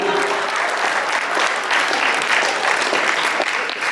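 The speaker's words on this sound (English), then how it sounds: "Give him a round of applause, everybody." Loud, dense applause from a banquet audience at a Chamber of Commerce event in Schuyler, Nebraska, a steady wash of many hands clapping throughout with little talk.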